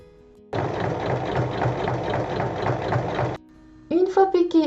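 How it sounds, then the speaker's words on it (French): A sewing machine stitches together the pieces of a fabric bag flap in one steady, close run of about three seconds, followed by a person speaking. "On place endroit contre endroit et on pique sur la hauteur."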